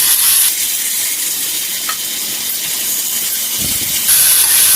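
Chopped onion and tomatoes frying in a pan for Maggi noodles over low flame, giving a steady, loud hissing sizzle that holds evenly with a faint stir midway.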